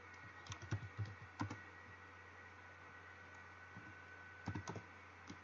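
Computer keyboard keys are typed in short bursts of quiet clicks, a quick cluster at the start and another near the end, over a faint steady hiss.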